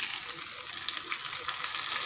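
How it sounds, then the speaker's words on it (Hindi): Tadka of mustard seeds sizzling in hot oil for coconut chutney, a bright continuous hiss with faint popping, close and alone. "अब हम तड़का लगाते हैं"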